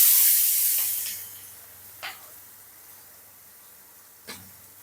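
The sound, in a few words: chopped onions frying in a wok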